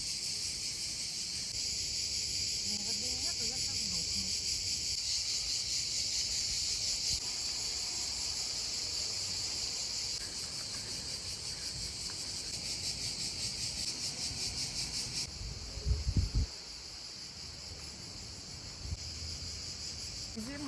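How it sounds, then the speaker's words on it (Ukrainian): Cicadas buzz in a continuous, steady high drone at a villa in Portofino, a loud insect chorus filling the outdoor air, with a brief low thump near the end and no talking. "А як пищать цикади?"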